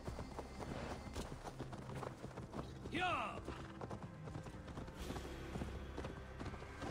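A horse gallops in Assassin's Creed Valhalla, its hooves drumming in a rapid, steady rhythm under game ambience. A short whinny rises midway through.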